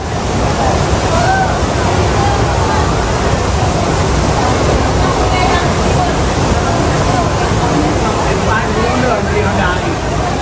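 Floodwater rushes loudly and without a break through a flooded residential area in Pidie Jaya, Aceh. The roar is dense and steady, with a windy rumble on the microphone.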